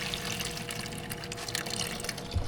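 Water rushes steadily through gold sluice equipment, a dense continuous splashing flow that holds close and loud without pause, with no voices over it.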